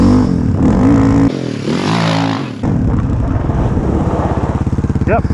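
A Suzuki DR350SE dirt bike rides around a yard in second gear. Its single-cylinder engine drones loud and near, dips briefly, then rises again into a rapid, pulsing revving.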